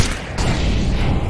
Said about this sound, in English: They'll throw in a flashbang.